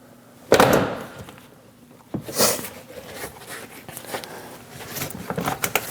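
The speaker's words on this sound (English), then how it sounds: "keep going around the door, popping all of those rivets" Plastic trim rivets pop loose as a rear door panel is pried off a Dodge Durango, a sharp snap near the start followed by another crack and scraping, rustling handling of the panel close by.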